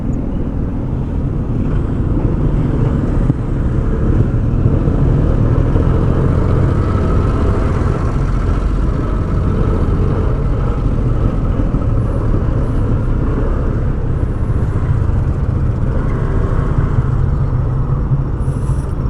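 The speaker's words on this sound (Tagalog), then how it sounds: "Umaandar kasi yung motor natin, nakain po talaga ng gasolina yan." A Honda Click 160 scooter engine runs in city traffic, a continuous low droning hum with wind rushing past, steady throughout and with no talking.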